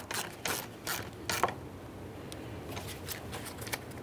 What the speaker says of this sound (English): tighten your 10mm mounting nut